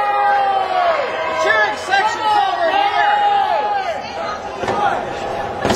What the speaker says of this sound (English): the crowd does not seem appreciative